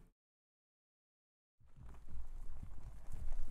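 Horse hooves clip-clopping in Silent Hill 2, starting after a moment of silence and building into a muffled, low rhythmic trot that grows louder toward the end.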